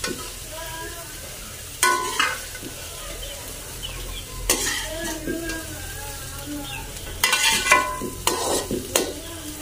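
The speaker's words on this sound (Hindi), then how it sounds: "तो अभी इसमें हम डालेंगे बाकी प्याज वगैरह भुनाई करेंगे।" Onions and vegetables fry in a pan with a steady sizzle, broken by louder scraping bursts as they are stirred. Faint birds sound in the village background.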